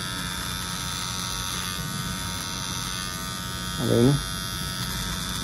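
An electric body hair trimmer runs with a steady buzzing hum throughout, briefly louder near the end as it cuts, while a person speaks over it.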